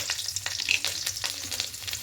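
Nigella seeds and dried and green chillies fry in hot mustard oil in a wok, a bright continuous crackling sizzle with quick spatters, close and steady, with no talking.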